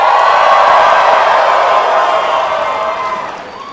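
Live concert crowd at a Montreal show cheering, whooping and making noise, loud at first and then gradually fading toward the end.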